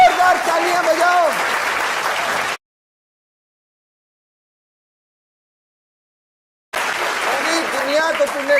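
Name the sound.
studio audience loud applause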